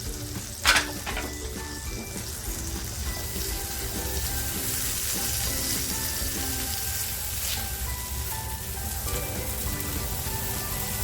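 Okra masala cooks in oil over a low flame, giving a steady, even sizzle and bubbling that runs close and alone throughout.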